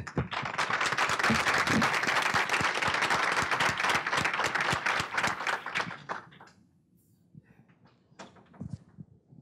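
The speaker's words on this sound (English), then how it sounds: "Can you help me with a round of applause," Audience at a community event for Minnesota women applauds Commissioner Lindsey: close, dense clapping for about six seconds, then a few scattered claps trailing off into near quiet.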